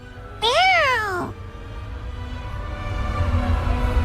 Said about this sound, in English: Let's follow that cat.